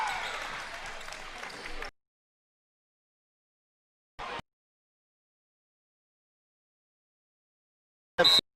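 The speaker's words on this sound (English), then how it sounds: "Now the crowd's into it." A basketball game crowd at Chapel Hill versus Cumberland lets out a burst of cheering and applause, loud and close, then cuts off, followed by two brief bursts of crowd noise.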